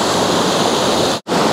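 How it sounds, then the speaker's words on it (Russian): A mountain river rushes through a rocky canyon in a loud, dense, unbroken roar of flowing water, heard close up and cut off briefly near the end. "Тут действительно просто река."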